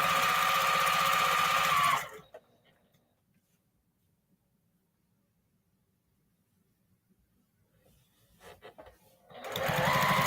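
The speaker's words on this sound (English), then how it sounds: "And I'm sewing still on that fold that was made with the iron when you're making them" A sewing machine stitches binding onto repurposed plate mats in a steady whir for about two seconds, then stops into near silence before starting up again for the last second.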